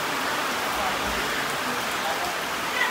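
Steady rain pours down at a village Gauri Ganpati immersion in Konkan, a dense, even hiss of drops on surfaces that holds constant throughout with no break.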